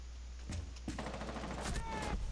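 Gunfire in Rainbow Six Siege during a team deathmatch on the Chalet map: a quick run of several close shots in an irregular burst, heard fairly quietly over game ambience.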